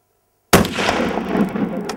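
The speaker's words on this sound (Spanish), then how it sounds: "Buen disparo." A single sharp rifle shot cracks out during an aoudad hunt in rugged Spanish hill country, after silence, followed by a long rolling echo that fades across the terrain.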